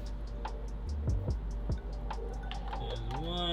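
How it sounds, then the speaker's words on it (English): Ice cubes dropped into a cup of boba tea, giving a few short, close clunks in quick succession while a voice speaks nearby. "All right, get some ice cubes in there."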